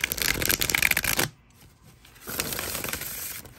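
A tarot card deck is shuffled close up in two crisp, rapid bursts of flapping, riffling cards separated by a brief quiet pause.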